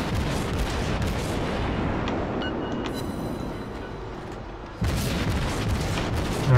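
Naval artillery in World of Warships rumbling continuously as heavy guns fire, a dense low roar with a sharp new blast near the end, loud and without speech.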